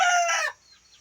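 Sweater-bloodline gamefowl rooster, a pure white-leg bird from a game farm, gives a single loud, close crow that breaks off abruptly halfway through, followed by quiet.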